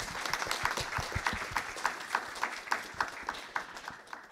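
Applause at the close of the e-Gov Data Contest awards ceremony: a small audience claps in distinct, fairly sparse rhythmic hits, moderately loud and steady, with no talking.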